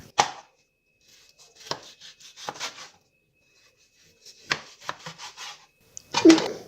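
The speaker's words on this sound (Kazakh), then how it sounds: "Етімізді осындай үлкен бөліктерге бөлеміз." A knife cuts meat into large pieces on a board: sparse, separate chopping strokes, some in quick pairs or short runs, with quiet gaps between them, close and fairly soft, with no talking.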